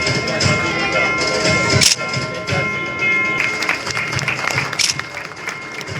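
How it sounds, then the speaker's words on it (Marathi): Crowd applause for newly elected municipal councillors at a civic felicitation event in Pimpalner, a steady dense clapping wash that holds throughout with a couple of sharper claps standing out. "जोरदार टाळ्या वाजवू द्या"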